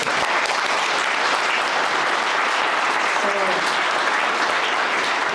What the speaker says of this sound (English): Let's do another round of applause.